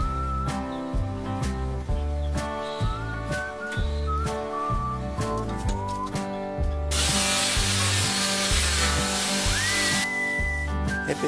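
A jigsaw cuts wooden stock for the handle of a wooden mallet. It rasps steadily for a few seconds, loud and close, while background music with whistling plays throughout.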